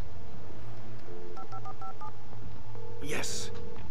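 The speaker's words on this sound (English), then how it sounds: "Oh, call for help. There's a phone." Telephone keypad tones beep in a quick run of distinct dialing presses in the Alan Wake video game, over a low hum, followed by a brief loud burst near the end.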